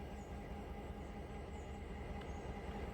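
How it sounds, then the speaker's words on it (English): A train on the Blue Ridge Western Railroad in Sylva rolls along with a steady, loud low rumble and grinding wheel noise that continues without a break and with no talking. "So we're going to take this train and we're going to put it right here."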